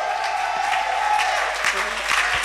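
A church congregation at a Christmas service claps to acclaim the Lord, with steady applause filling the room and a voice speaking over it.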